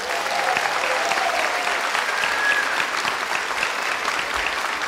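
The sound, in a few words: applause for Bel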